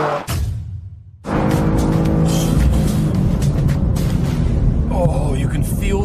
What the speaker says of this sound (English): And the BMW is away. Oh, he's already shooting ahead. That thing is quick.